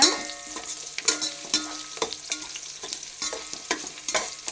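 Whole biryani spices, cardamom among them, are stirred as they fry in a pan, giving repeated sharp scraping and clinking strokes over a crackling sizzle, close and fairly loud, with no voices.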